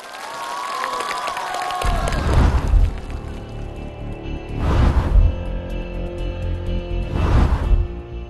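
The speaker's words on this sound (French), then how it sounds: "Alors applaudissons tous bien fort pour encourager monsieur Zhao pour son défi." A studio audience claps and cheers to encourage a man taking on a challenge, with loud bursts of crowd noise rising and fading in three waves.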